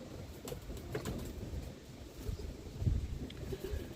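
A Mason roller pigeon hen coos softly, with faint intermittent bird calls over low wind and background noise.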